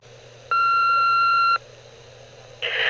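A phone answering machine gives its message beep: one steady, clear electronic tone lasting about a second over a low background hum, followed by a burst of hiss.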